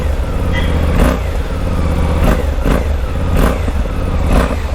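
Exhaust of a 2025 Suzuki V-Strom 250 SX parallel-twin motorcycle revved while standing, loud and close, with four blips swelling over a steady rumbling idle.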